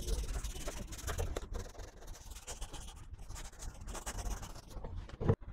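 Sandpaper rubs over the plastic dashboard of a Honda Activa scooter, roughening it before spray painting. Quiet, uneven scratchy strokes repeat for several seconds, with faint background noise.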